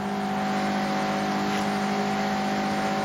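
A Mazda MX-5 engine in Forza Horizon 6 holding a high, steady rev with a strong buzzing drone, loud and close and unbroken, no talk over it.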